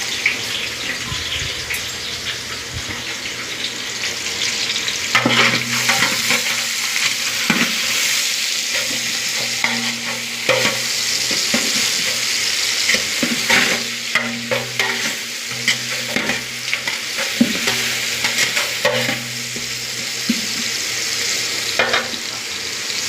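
Sliced onions for chicken biryani sizzle steadily in hot oil while a utensil scrapes and stirs through them in irregular clicks and knocks, close and continuous, with a faint running-water hiss in the background.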